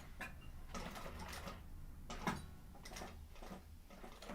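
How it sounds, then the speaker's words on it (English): A sewing machine top-stitching a 1/8-inch seam on a sling bag, running quietly as a soft, steady mechanical whir with faint repeated clicks and taps, heard alone without talk. "going in with my 1/8 of an inch seam allowance top stitch"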